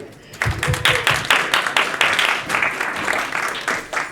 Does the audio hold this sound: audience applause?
yes